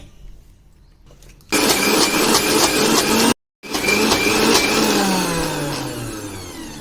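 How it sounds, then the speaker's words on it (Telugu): A mixer grinder whirs loudly, grinding horse gram chutney with onion, tamarind, garlic and cumin, running in two close bursts split by a short pause, with no talking. "దీన్ని మిక్సీ పట్టుకుందామండి"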